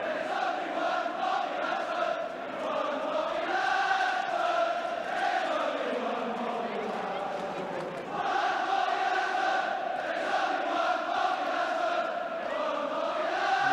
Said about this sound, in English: The crowd now singing the praises of Bob Latchford, and no wonder.